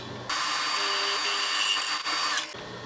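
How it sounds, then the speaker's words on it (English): Power drill boring holes in hot-rolled steel tubs for a 1970 Chevrolet Nova, a close, loud, high whine that starts abruptly, holds steady for over two seconds with a brief dip, then cuts off. "After I drill these holes here"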